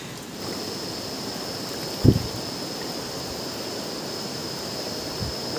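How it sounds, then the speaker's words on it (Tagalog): A strong stream rushes continuously at close range, a steady broad roar with a single dull knock partway through. "Ang lakas ng ragasa ng tubig."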